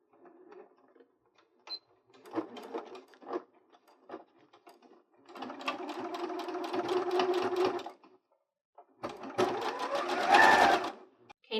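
A sewing machine stitching a clear 3D face mask: several short bursts of rapid mechanical needle chatter, then two longer sustained runs, close and fairly loud, with no talking.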